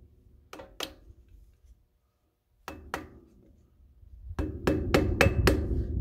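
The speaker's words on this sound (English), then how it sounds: "once you get your screwdriver down there, it'll slowly start popping." A hammer strikes a screwdriver to pry off a trailer hub cap, giving close, sharp metallic knocks: a pair, a pause, another pair, then a quicker run of five blows over rising background rumble.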